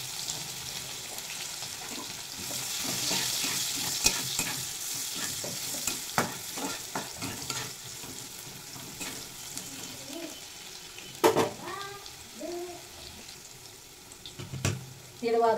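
Onions fry in a pan over cumin tempering, a steady close sizzle with frequent spatula scrapes and clinks, plus a few louder knocks against the pan toward the end.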